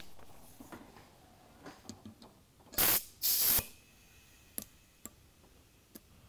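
A locking air chuck on a brand new Schrader valve stem lets out two short, loud bursts of air hiss close by, with faint clicks and ticks before and after.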